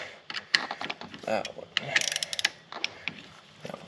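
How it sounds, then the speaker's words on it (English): Hand ratchet breaking loose clutch cover bolts on a 2006 Suzuki GSX-R600 motorcycle, a series of close, rapid clicking bursts with brief pauses between turns, a few softer knocks mixed in. "I'm gonna just break this loose, break this one loose, this one, that one"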